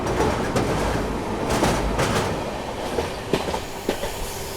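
Dibrugarh Rajdhani Express runs at speed, heard from inside a second AC coach: a continuous loud rumble with rhythmic clickety-clack wheel beats and occasional sharp rail knocks.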